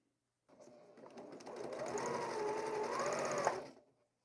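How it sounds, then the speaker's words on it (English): A sewing machine stitches quilt scraps in one continuous whirring run of about three seconds, close and steady, with no voices. "Just be cautious not to catch any of the extra parts underneath as you continue to sew"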